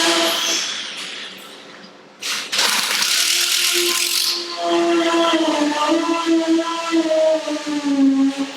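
A powered screwdriver drives screws into a continuous hinge on a stairway door, a rising whine that settles into a steady, loud mechanical hum after a brief ratcheting burst, close by with no talking.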